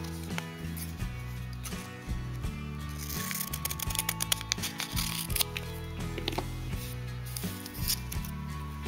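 Scissors snip open a Pokémon card pack with a series of small, crisp clicking cuts near the microphone, set over a steady low background hum.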